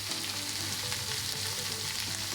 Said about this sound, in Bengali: এবার কড়াইতে আরো একটু তেল দিয়ে গোটা জিরে ফোড়ন দেব।